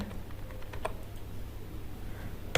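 Soft, quiet keystrokes on a computer keyboard while Python code is typed, a sparse irregular tapping with one brief louder click near the end and no voices.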